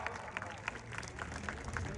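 Faint, scattered clapping from a crowd at an outdoor wrestling ground applauding the festival committee, distant and light under a speaking voice.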